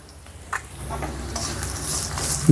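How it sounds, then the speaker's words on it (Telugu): Green chilies and garlic cloves fry in a pan over a low flame, giving a soft, steady sizzle that builds gradually over a few seconds, with brief scraping stirs and a louder clatter at the end. "ఇప్పుడు మనం వేసిన పచ్చిమిర్చి, ఆ వెల్లుల్లి రెబ్బలు చక్కగా ఫ్రై అయినాయండి"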